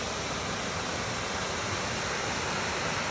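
A waterfall roars steadily outdoors, producing a dense, unbroken rush of falling water that fills the scene at full strength with no voices.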